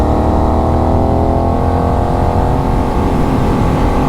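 A Benelli 752S motorcycle engine running close by, a loud, steady, rumbling drone that holds even throughout without pause.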